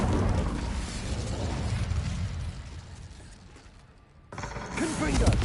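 A fire spell cast in a Harry Potter video game, a dense roaring burst of flame and crackle that dips briefly before surging back loud, with chaotic game noise throughout.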